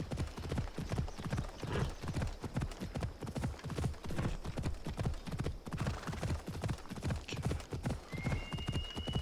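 Phobos the horse gallops at a steady pace through Assassin's Creed Odyssey, its hooves drumming in a fast, regular clip-clop that stays close and loud the whole way, with a brief whinny near the end.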